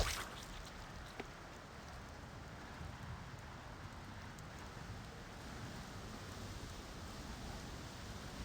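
Steady rushing water of a waterfall in the Dungeon Siege video game, a continuous even wash of noise throughout with a faint tick near the start, no voices.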